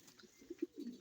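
Pet birds, likely doves or pigeons, give soft low coos in a short cluster of three or four close, quiet calls.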